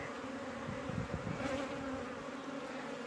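Honey bees in a queenless hive make a steady, close buzzing drone that holds continuously through the clip at a moderate level.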